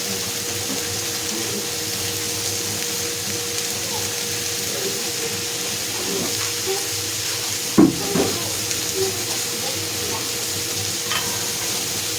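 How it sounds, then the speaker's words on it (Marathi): Spices fry in a pan for a chapati frankie with a steady, even sizzle throughout, and a brief clunk of a spoon or pan near the middle. "तर हे फ्राय होते"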